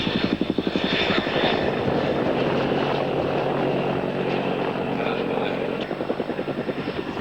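A Cobra attack helicopter flying overhead at an airshow with heavy, rhythmic rotor thumping and engine whine, loud and steady, fading slightly toward the end.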